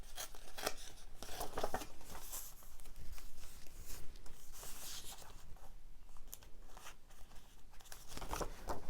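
Scissors snip through paper close up in a steady run of crisp cuts, with rustling and crinkling of the sheet between strokes.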